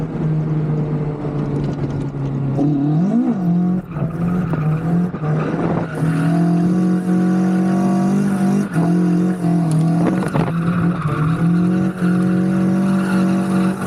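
A Toyota AE86 drifting on a race track, its engine droning and revving steadily with shifting pitch through corners and occasional tire squeal, loud and continuous throughout.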